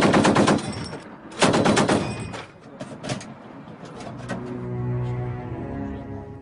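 An automatic weapon fires during a police operation: two loud, rapid bursts, then a few scattered single shots, fading into a lower steady hum.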